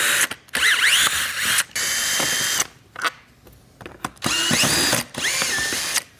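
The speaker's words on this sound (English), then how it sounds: "We're going to need to remove all of the assembly screws from our panel." A power drill or driver backs assembly screws out of a window blind panel, with bursts of whirring and ratcheting that start and stop several times, loud and close, and no speech.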